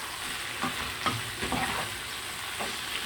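Onions frying in a pan for attieke, with a steady broadband sizzle and several soft stirring scrapes spaced through the three seconds, close and moderately loud with no talking.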